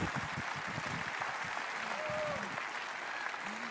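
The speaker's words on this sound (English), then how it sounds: "That's where you clap." Audience applause at a Bible teaching talk, a broad, continuous patter of many hands, fairly faint and distant, with a voice briefly audible over it.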